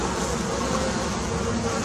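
Honey bees buzz densely and continuously during an inspection of an Italian bee hive in July, a close, loud, unbroken swarm drone.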